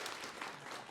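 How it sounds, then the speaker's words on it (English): A brief burst of audience applause, moderately loud and dense, heard on its own without talk. "Round of applause, please."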